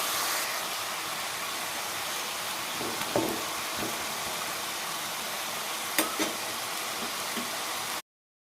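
Bottle gourd sautés in hot oil, producing a loud, even hiss and sizzle up close, broken by a few light knocks of a spoon against the pan, before stopping abruptly.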